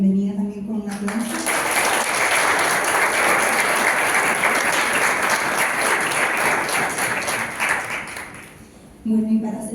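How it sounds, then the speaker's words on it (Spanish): Audience applause welcoming a speaker at a philosophy event, rising after a brief voice and holding dense and steady for about seven seconds before tapering, with speech resuming at the end. "Le damos la bienvenida también con un aplauso."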